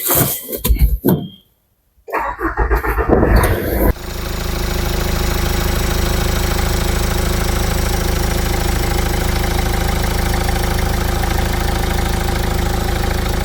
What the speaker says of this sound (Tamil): வண்டியோட இன்ஜின் ஸ்டார்ட் பண்ணி இன்ஜின் நாய்ஸ் என்னங்கிறது பார்த்துடலாம்.